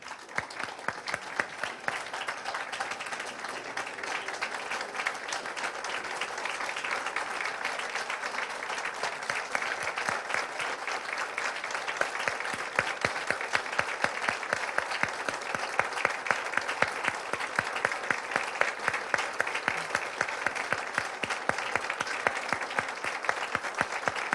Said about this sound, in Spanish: Les pido a todas y a todos ustedes un minuto de aplausos para el ingeniero Eberto Castillo.